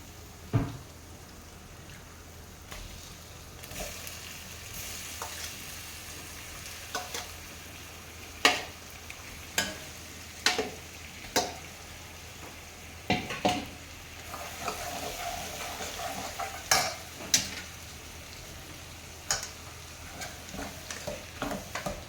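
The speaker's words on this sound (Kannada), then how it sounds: "ಇವಾಗ ನೋಡಿ ಈ ಪ್ರಾನ್ಸ್ನ ಹಾಕಿ ನಾವು ಫ್ರೈ ಮಾಡೋಣ" Prawns frying in a pan with curry spices, a low steady sizzle broken by sharp clicks and stirring scrapes at irregular intervals, close and moderately quiet, with no talk.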